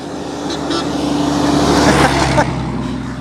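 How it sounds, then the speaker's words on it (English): A dump truck blasts its horn in one sustained honk lasting about a second, over steady nearby vehicle engine noise. "That dump truck just blew his horn at me"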